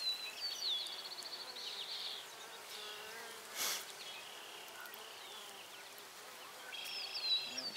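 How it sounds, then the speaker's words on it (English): Calm honey bees hum softly inside an opened compartment of a queen castle hive, a low continuous buzz with faint bird calls chirping on top and one brief sharp knock midway. "They seem to be real nice bees."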